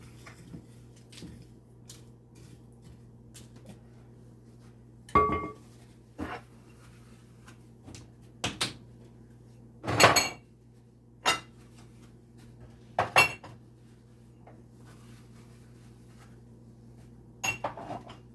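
Whole spices for Jamaican curry powder toasting in a dry pan: sporadic metallic clinks and scrapes of a utensil against the pan, spaced irregularly over a quiet, low kitchen hum.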